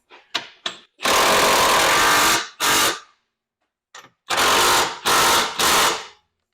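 A socket wrench with an 18 mm socket on an extension tightens a bolt on a BMW E46 undergoing a K-swap, heard as bursts of loud buzzing ratchet or impact-tool noise separated by short pauses.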